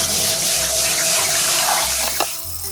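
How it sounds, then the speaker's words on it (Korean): Tap water runs steadily and close up while food is rinsed in a sieve beneath it, with a brief splashy swish near the end and no talking. "흐르는 물에서 살랑살랑 하면서 쑥 흘러내려가게 씻어주면 아주 깔끔하니 좋습니다."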